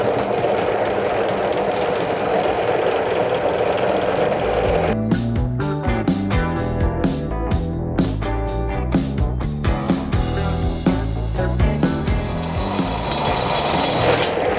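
A Thorvik titanium-nitride-coated drill bit bores into metal. A loud, steady grinding whir gives way to a harsh, stuttering, rhythmic chatter as the bit bites under load.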